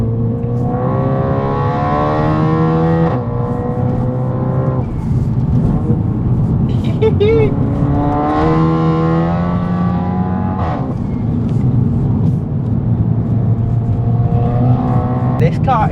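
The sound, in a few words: Audi TT sports car driving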